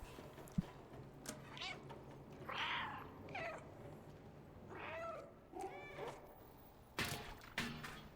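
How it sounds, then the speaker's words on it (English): Repeated meows from a cat in the video game Stray, several short separate calls spread across the stretch with a couple of soft thumps and faint background noise between them. "he got a meow in the middle of it"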